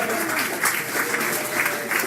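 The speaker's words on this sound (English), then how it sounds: "You can applaud now." Audience applause at a comedy open mic night in a small venue, a steady, dense patter of clapping hands lasting a couple of seconds with slight swells, no talking over it.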